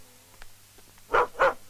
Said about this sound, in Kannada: ಹಿಂದಿಲ್ ಬೊಗಳ್ತಾ ಇದೆ